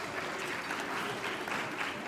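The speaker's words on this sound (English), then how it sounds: "Let's give him a round of applause." A conference audience at a climate resilience event applauds an arriving guest, a continuous, fairly soft wash of many hands clapping, heard alone without speech.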